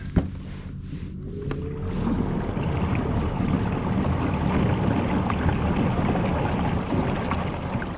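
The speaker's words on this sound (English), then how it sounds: "You just hear that big gush of water." Water gushes loudly behind a moving fishing boat on the Wando River near Charleston, a continuous churning rush with wind buffeting, rising after a brief quieter start.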